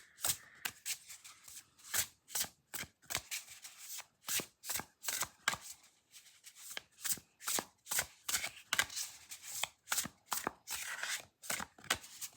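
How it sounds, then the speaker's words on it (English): Matte, unglossed Shaman's Dream Oracle cards being shuffled by hand, close and quiet, about twenty crisp riffling bursts in a steady, even rhythm. "So these are not uncomfortable to shuffle."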